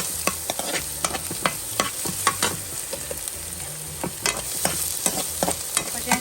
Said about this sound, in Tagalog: Ayan, gisa-gisa tayo ng bawang at sibuyas. So, unahin mo natin ang bawang.